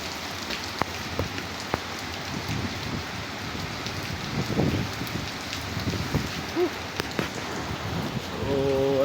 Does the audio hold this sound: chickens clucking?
no